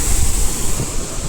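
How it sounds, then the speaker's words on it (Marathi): Raanpaat waterfall in Ratnagiri during the monsoon, heard as a steady, loud roar of rushing water with a broad hiss and low rumble, mixed with wind buffeting the microphone, continuous without pauses. "खूप छान आहे धबधबा, मला आवडला"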